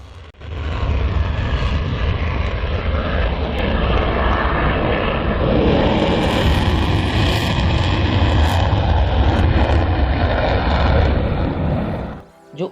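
Dassault Rafale fighter jets fly overhead with a loud, sustained roar that swells in and holds steady for about twelve seconds before cutting off abruptly.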